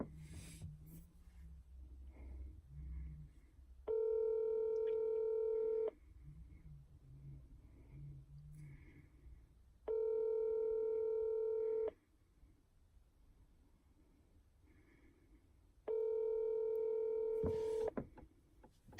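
Telephone dialing and ringback tones on a call: three long, steady electronic tones a few seconds apart, loud and clear over a quiet room with faint murmurs in the gaps.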